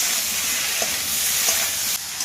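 Taro roots (kochur mukhi) sautéing with salt and turmeric in a village kitchen in the Sundarbans, a steady close sizzle with a faint stir or two, no talking.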